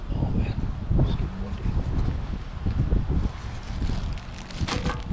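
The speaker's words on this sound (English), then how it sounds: "oh man, it's getting" Gusty wind blows across an open carp-fishing spot by the water, buffeting the microphone with rough, low rumbling bursts that rise and fall steadily without letup.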